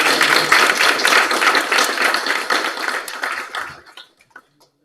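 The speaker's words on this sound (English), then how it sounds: "Give a round of applause for Marianne." A seated audience at a temple initiation ceremony applauds for a woman named Marianne: dense, close clapping that holds steady for about three seconds, then thins out to a few last scattered claps before silence.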